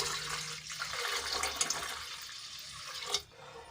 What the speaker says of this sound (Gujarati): એમાં આપણે જોઈતા પ્રમાણમાં ગરમ પાણી એડ કરીશું.